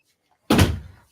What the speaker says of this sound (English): Let me just close the dog door here for a minute.